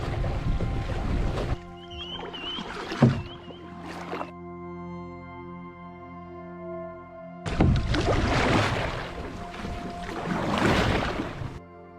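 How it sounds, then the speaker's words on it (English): Kayak paddle strokes splash through shallow, tide-drained mangrove water in two loud bursts at the start and end, separated by a quieter stretch with a steady hum in the background. "I'm gonna have to do a lot more paddling with this"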